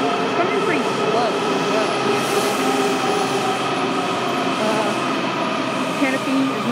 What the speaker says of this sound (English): That'll happen with the first car of the train coming in.